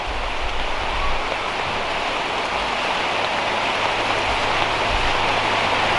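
Heavy rain pours down at a roadside grilled chicken sale, a loud, even hiss of drops drumming on surfaces that fills the whole stretch without pause or voices.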